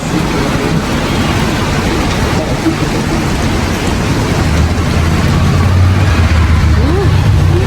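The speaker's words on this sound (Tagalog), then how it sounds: "Umulan ng bato, guys." Hail falls outdoors in a dense, loud and constant patter of hard pellets striking surfaces, with no pauses and a low rumbling undertone building toward the end.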